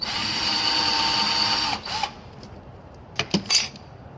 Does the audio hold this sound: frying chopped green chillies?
no